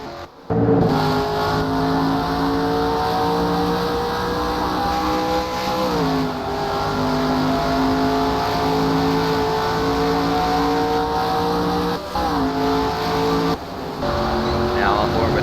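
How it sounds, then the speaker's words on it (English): An on-board race car engine in an MG Cup Series race at Riverside drones loudly and continuously, its pitch shifting with gear changes, while a commentator talks over it. "As we ride on board with Jeff Gordon, good old Wonder Boy."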